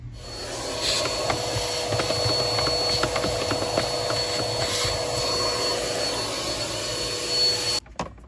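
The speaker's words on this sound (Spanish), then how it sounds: "Antes de poner el nuevo filtro, vamos a aspirarlo." A vacuum cleaner runs steadily at close range cleaning the cabin filter housing of a 2003-2008 Honda Pilot, a continuous whirring drone with scraping bumps as the nozzle moves, cutting off abruptly near the end.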